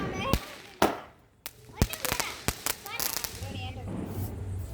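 A 25-shot firecracker cake fires weak shots as several sharp, dull pops at irregular intervals, some close and loud, others fainter, with voices and crackling nearby.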